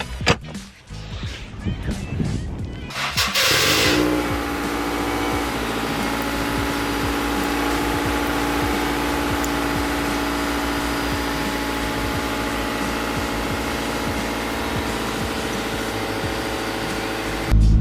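A Honda S2000 with bagged suspension cranks and starts after a few seconds of handling noise, then settles into a steady, even idle as it warms up in snowy weather, close and constant.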